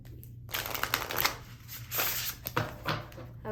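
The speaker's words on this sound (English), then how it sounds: "So I'm going to give these one more good shuffle." A deck of tarot cards being shuffled by hand, close and quiet, in several quick riffling bursts with short pauses between them.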